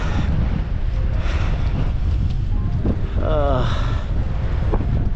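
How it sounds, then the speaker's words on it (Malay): Strong, cold wind roars steadily into the microphone on a high mountain road in a national park in China, a constant loud buffeting rush with faint voices underneath. "Tapi sejuknya angin, ya Tuhan. Angin kuat ni."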